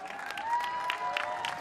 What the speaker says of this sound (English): On les remercie, on les applaudit.